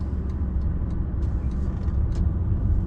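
A 1989 Mercedes-Benz 560 SEL with a smooth-shifting 4-speed automatic on a test drive, heard from inside the cabin as a steady low engine and road rumble, with faint light ticks over it.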